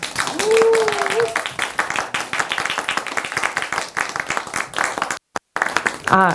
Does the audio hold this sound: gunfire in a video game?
no